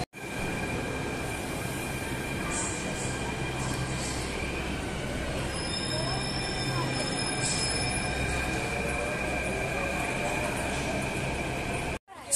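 A Delhi Metro train pulls into Lal Qila (Red Fort) station, with a continuous loud rumble of rolling carriages and high wheel squeals near the middle before the sound cuts off abruptly.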